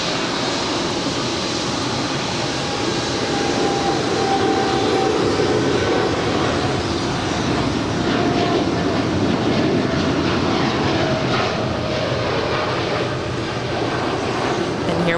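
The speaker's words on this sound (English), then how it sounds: "Here we have American 1228 headed to Miami. It's a 7878 Dreamliner." American Airlines Boeing 787-8 Dreamliner departing LAX, a continuous loud engine roar and rushing noise that holds steady throughout with faint voices mixed in.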